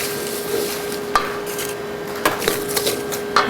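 A spoon scrapes and taps against a bowl while eggs are stirred into biscotti dough, with soft rubbing strokes broken by several sharp clinks, close up and with no talk.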